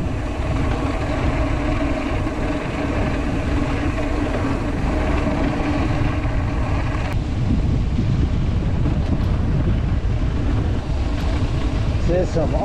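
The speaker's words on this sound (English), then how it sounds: "it's cold and windy too" Steady low rumbling wind buffeting outdoors among rock slabs at the Ribbon near Grand Junction, Colorado, loud and continuous throughout, with a broad roar and no clear speech.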